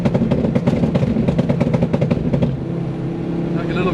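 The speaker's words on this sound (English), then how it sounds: "out of all the cars, this thing turbo flutters the most. I've never heard a turbo flutter like that in my life." A 400 hp Ford Focus ST's turbo flutters in a rapid, loud chattering burst over engine rumble for about two and a half seconds, then settles to a steadier idle hum.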